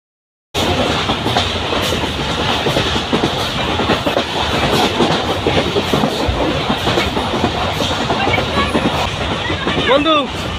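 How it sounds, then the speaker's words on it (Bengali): A moving passenger train in Bangladesh heard from inside a carriage: a loud, steady rumble with rhythmic clickety-clack of the wheels over the rails, continuous for the whole stretch, with a brief squeal near the end and some voices mixed in. "আমাদের ট্রেন চলতেছে।"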